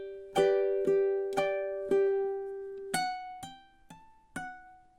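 Solo ukulele picks out a short phrase of The Office theme melody, clear plucked notes ringing one after another in a steady rhythm, close and alone with no voice.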